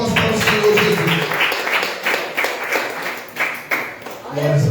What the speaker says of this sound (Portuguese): Só quem crê, bate palmas para o Senhor Jesus